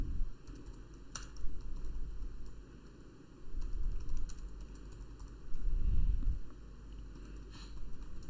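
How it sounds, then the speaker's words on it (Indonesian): Someone types on a computer keyboard while writing a cafe menu. The keystrokes come as sparse, soft clicks in short bursts under a faint steady tonal background. "Langsung aja kita ketik di sini."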